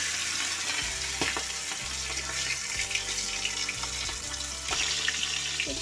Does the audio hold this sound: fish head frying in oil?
yes